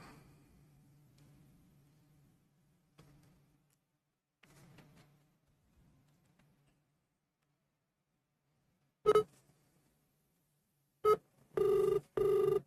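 Phone ringing in short electronic bursts near the end, following several seconds of faint, quiet background.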